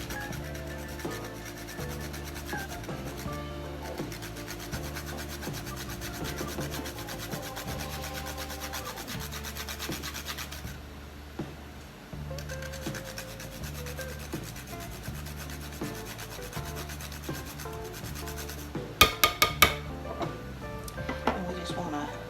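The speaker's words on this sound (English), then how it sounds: "Since I'm grating my own, I won't need quite that much." Whole nutmeg is rubbed against a hand grater while zucchini relish is being made for canning. It gives a steady, soft rasping scrape over continuous background music, with a few sharper clicks near the end.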